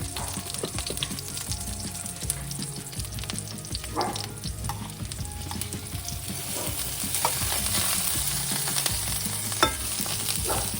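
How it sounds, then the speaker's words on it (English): Chiles de árbol sizzle and crackle in hot oil with occasional stirring scrapes, a steady close frying sound that builds slightly, no voices. "I'm simmering the chiles just very minimally"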